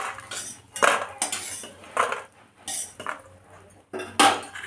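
Metal utensils scrape and clink against a pan as fried lentil bori are lifted out, a series of sharp clattering bursts with pauses between them, close and fairly loud.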